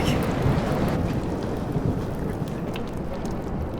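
A thunderstorm rumbles in the video game Life Is Strange, heavy rain hissing steadily beneath deep rolling low thunder, loud and dense throughout with no voices.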